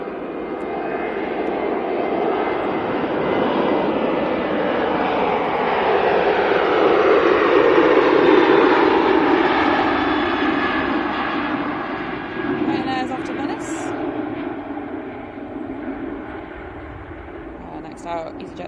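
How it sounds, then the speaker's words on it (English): A Boeing 737 jet airliner from Dalaman on final approach roars past, a loud broad engine rumble that swells toward the middle and slowly fades, with faint clicks and handling noise near the end. "737 from Dalaman on finals."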